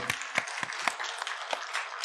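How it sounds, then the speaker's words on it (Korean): A church congregation applauds during a Sunday sermon, with several short bursts of clapping spread over two seconds, moderately loud but thin, as if heard from the pulpit microphone. "여러분, 뜨거운 박수로 다윗에게 박수를 한번 보내주세요."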